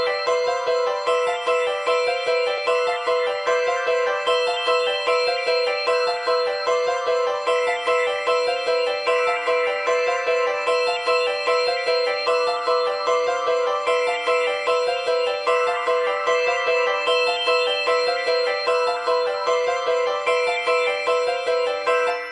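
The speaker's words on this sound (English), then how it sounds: "Then we went ahead and added a bell, and I've got some effects on all of this stuff too" A bell melody with effects in an ambient trap beat, bright repeating chimed notes running steadily throughout with a constant rhythmic pulse, loud and alone without any voice.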